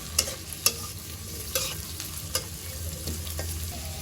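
Spice paste for beef tripe fries and is stirred in a pan, a steady soft sizzle broken by a few sharp scrapes and clinks of the spoon at irregular moments, close and moderately loud with no talk.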